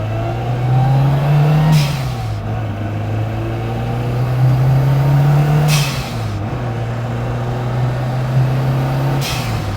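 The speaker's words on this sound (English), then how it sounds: "you probably want to hear the blow-off valve and the turbo" A turbocharged car revs up three times, its engine tone rising as the turbo spools. Each rise ends in a sharp, breathy hiss as the blow-off valve vents, and the engine settles between runs.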